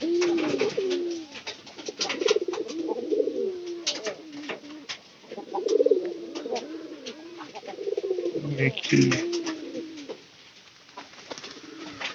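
Pigeons in a loft coo repeatedly in low, throaty rolling phrases, several birds overlapping near and far, with faint rustles and soft background noise between calls.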